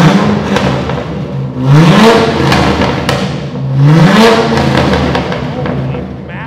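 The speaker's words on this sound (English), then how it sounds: "let's get a rev, dude" A Corvette engine revved hard twice while parked, each blip climbing loudly and dropping back to a rumbling idle, close by and dominating the scene.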